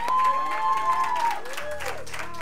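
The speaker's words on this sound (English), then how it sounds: "Give God a hand clap of praise." Church congregation clapping their hands in praise during a service, a crowd applause texture under a sustained organ or keyboard tone and a few cheers, fairly loud.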